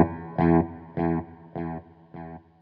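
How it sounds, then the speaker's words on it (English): An electric guitar played through a Harley Benton delay pedal on its modulation setting gives four chorused chords, each with a shimmering wobble and a short repeating tail. "you can hear there's some chorusing going on"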